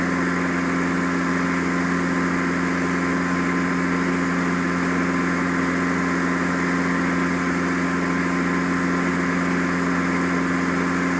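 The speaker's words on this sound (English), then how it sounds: "throttle forward and set the power to 2400 RPM" A simulated airplane engine at 2400 RPM, a constant, even droning hum with a strong steady tone, loud and unbroken from start to finish.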